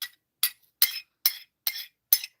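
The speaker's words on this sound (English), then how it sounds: "I'm just pushing the leaves down back into the cup." Six light clinks of metal against a ceramic cup as tea leaves are pushed down, evenly spaced, close and fairly soft, each a short bright tap.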